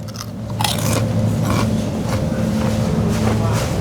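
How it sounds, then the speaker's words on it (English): Crisp crunching bites of a crispy crouton repeated a few times, close up, over a steady low engine hum with someone talking. "As crispy and crunchy like no other crouton."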